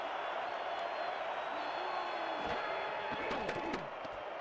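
Stadium crowd at a Chicago home football video game on third and long, a continuous loud roar with a few sharp thuds and bursts rising near the end.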